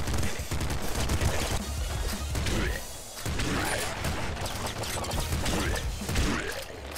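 A shotgun fires repeatedly in Nuclear Throne, dense crunchy blasts and crashing impacts packed together in a loud, busy barrage that barely lets up.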